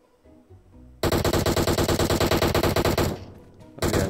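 Automatic weapon fire in the PUBG Mobile video game: a loud, rapid burst of evenly spaced shots lasting about two seconds, then a brief fading echo and another sharp shot, close and dominant.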